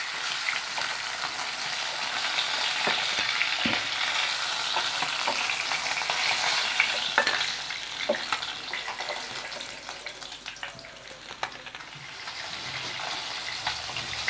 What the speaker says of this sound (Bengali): দেখুন আমার মাছটা ভাজা হয়ে গেছে।